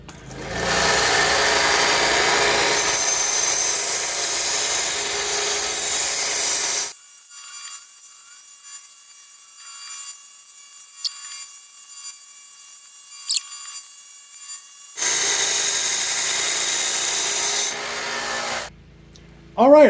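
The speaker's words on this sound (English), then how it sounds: "Now we're going to jump on this 1-inch belt here and see if we can cut our bevels in." A 1-inch belt grinder grinds bevels into a hand-forged wrapped-eye axe in a blacksmith shop, giving a loud steady rasping whine in two long passes separated by a quiet gap with faint shop noise, then a short voice at the end.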